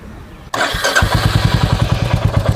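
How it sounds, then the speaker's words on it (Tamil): A Royal Enfield Classic 350 motorcycle cranks and catches after a brief pause, then settles into a steady, thumping single-cylinder idle close by, with the exhaust head pipe and O2 sensor freshly refitted. "இப்போ வண்டி ஸ்டார்ட் பண்ணி பார்த்துட வேண்டியதான் கரெக்டாக மாட்டிருக்கமான்னு"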